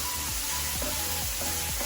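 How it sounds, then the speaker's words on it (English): Onions frying in a pan give a steady dense sizzle that fills the whole stretch, with a few soft stirring scrapes underneath and no talk. "So we let the onions cook for some time."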